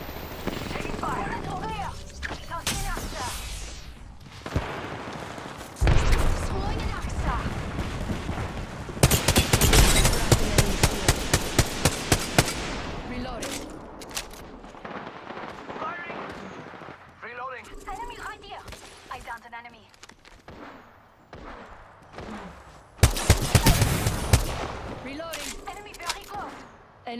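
Gunfire in the Apex Legends video game: repeated loud bursts of shots and impacts, with dense rapid volleys, game effects and voiced callouts mixed in.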